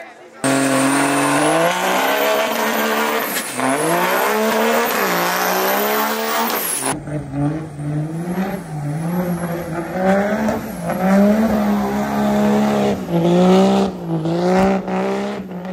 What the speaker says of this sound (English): Due to popular demand, I'm doing burnouts now, and hopefully it goes smoothly and no turbos explode.